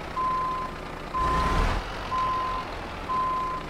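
A Volvo FH Classic truck in Euro Truck Simulator 2 sounds its reversing alarm, four evenly spaced steady beeps over a low engine rumble, with a brief hiss of air in the middle.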